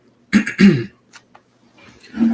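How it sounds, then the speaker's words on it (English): Two quick, close throat clearings in a row, followed by a brief pause, small sounds and then a voice starting to speak. "so sorry for clearing my throat"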